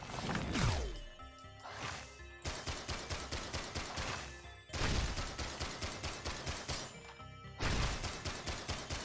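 Rapid video-game gunfire in repeated bursts, each opening with a heavier blast followed by quick rhythmic shots. The bursts sound fairly quiet overall and are separated by short gaps.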